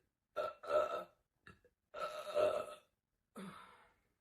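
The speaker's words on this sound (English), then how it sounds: "I say the last burp, but they keep coming out" A man lets out a run of deep, croaky burps, five of them in uneven bursts with short silences between, close and loud with no other sound around them.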